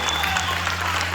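A church congregation applauds in a brief burst of steady, dense clapping, with a low hum and faint voices mixed in.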